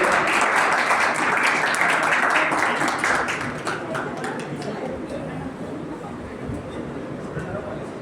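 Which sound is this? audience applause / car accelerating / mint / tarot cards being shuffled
audience applause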